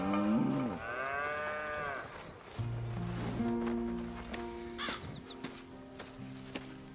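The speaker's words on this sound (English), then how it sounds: "Here's the cows." Cattle moo in the video game Red Dead Redemption 2, several long, close lowing calls one after another with a crow cawing in between, over quiet farm ambience and no talk.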